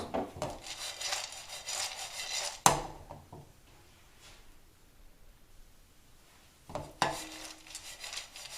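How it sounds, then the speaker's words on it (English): Cashews and dry fruits stirred in a pan, with rattling, scraping bursts at the start and end and a quiet stretch between. "Keep mixing it."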